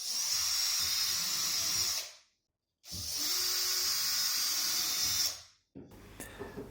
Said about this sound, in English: drill to check that I got the right spots